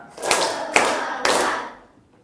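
A classroom of children claps together in a short rhythm game, three quick bursts of close, loud clapping in even succession, then quiet.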